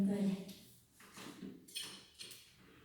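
A drawer is pulled open and pushed shut several times in quick succession during a search for paperback books, with soft wooden sliding knocks coming close by after someone speaks briefly.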